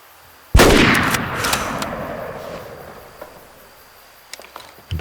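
A single loud rifle shot fired while hunting in the Way of the Hunter video game, cracking sharply and rolling off into a long fading echo over faint insect chirps.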